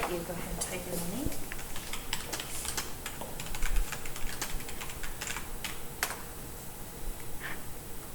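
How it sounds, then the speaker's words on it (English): A sample name is typed on a computer keyboard in a lab, a run of quick, light, clicking keystrokes at an uneven pace, close by, with a voice briefly heard near the start. "I'll let you go ahead and type in the name."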